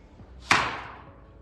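A single sharp strike of a small hammer on a lump of coal, with children taking turns, lands as one crisp close knock that rings briefly and fades within about a second.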